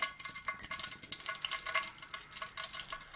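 Tempering spices with curry leaves spit and crackle in hot oil for a brinjal fry, a bright, uneven sizzle of close pops and bursts with no talking.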